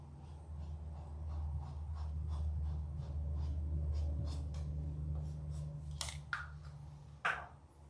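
A pencil scratches across paper in quick, soft strokes, close and quiet over a low background hum, with a few sharper scrapes near the end.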